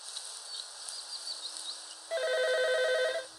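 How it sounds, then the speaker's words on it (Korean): A telephone rings once with a bright electronic warble, starting partway through after a quiet stretch of faint rustling ambience. "전화가 울린다."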